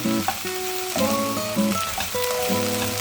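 Okra sizzles and fries steadily in a pan while being stirred, with a close, even crackle and intermittent scraping throughout.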